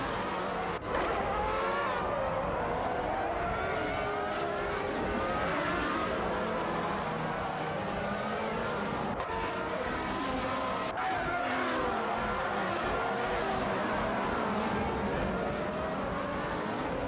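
Race car engines in a racing video game, including a McLaren MP4-10, whine loudly and continuously with shifting pitch as the cars jostle for position, with occasional sharp bursts.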